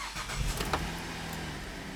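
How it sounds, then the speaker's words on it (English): A GMC Acadia with a check engine light and lean-running, misfire faults cranks and starts, with a brief mechanical rattle and catch, then settles into a low, quiet idle. "let's start the engine and confirm the customer's complaint."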